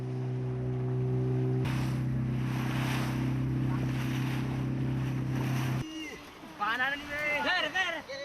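A motorboat engine drones steadily on the sea off Indonesia with wind and water noise for several seconds, then cuts away to rushing water with high chirping calls.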